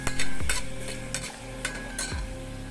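A utensil scrapes and stirs biryani ingredients in a pot with repeated strokes over a steady sizzle of frying, close up and without talk.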